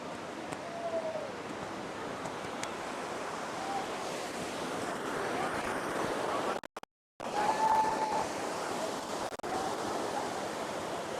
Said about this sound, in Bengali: আজকের ঢেউটা কিন্তু অসাধারণ না এবং ঢেউটা আস্তে আস্তে বাড়তেছে